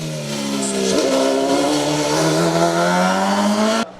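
A Reynard 01L Formula 3000 race car engine revs hard and loud, pitch climbing steadily for several seconds before cutting off abruptly.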